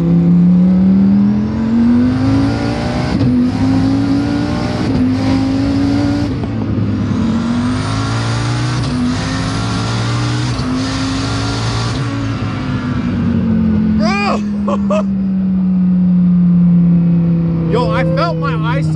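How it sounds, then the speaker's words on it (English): A twin-turbo 9-litre stroker Dodge Viper street car with a sequential gearbox accelerates hard, its loud engine note climbing through several gear changes with whooshing turbo noise, then easing off, while people talk and shout excitedly inside. "Fastest car I've ever been in."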